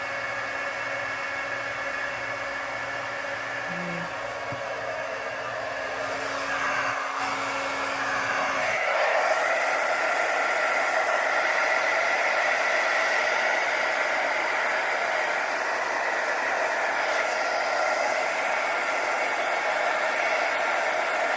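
A heat gun blows steadily on poured acrylic paint, a loud continuous hissing rush of air that holds for the whole stretch and grows slightly fuller partway through, with no talking.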